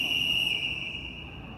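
A tour guide's whistle gives one steady, shrill blast lasting well over a second, close and fairly loud, with no voices.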